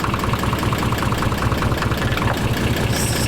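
A barn-find Nissan 300ZX twin turbo idling up close, a steady mid-pitched engine drone with a fast, even ticking from the valvetrain running through it, loud and alone without speech.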